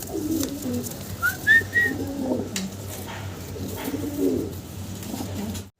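Fancy pigeons at a pigeon farm coo softly in repeated low, throaty phrases, close by, with a few brief higher whistle-like notes early on.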